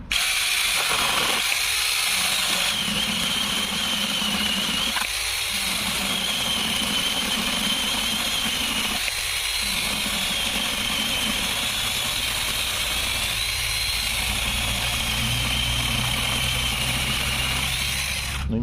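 A battery mini chainsaw from AliExpress runs steadily and close, with a constant high whining motor drone broken by several brief dips as it cuts, and no voices.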